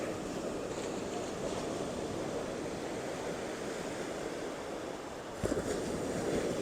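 Calm sea at West Palm Beach, Florida, washes gently in a steady soft roar mixed with wind buffeting, with a slightly stronger surge near the end and no talk.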